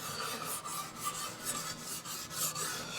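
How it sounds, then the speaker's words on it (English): Scotch-Brite pad scrubbed back and forth over the metal running surfaces and rails of a mill, a steady close rasping that rises and falls with each stroke, with no one speaking. "this is where we're going to use the Scotch-Brite to clean things up"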